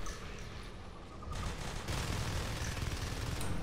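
Marines open up with rapid gunfire in a sci-fi strategy game, a dense rattling fusillade that grows louder and heavier about halfway through and keeps going.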